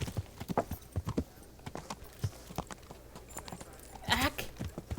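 Hooves clip-clop in an irregular trot as a horse is ridden through a medieval town in the video game Kingdom Come: Deliverance, close and distinct, with a brief louder scuffle near the end.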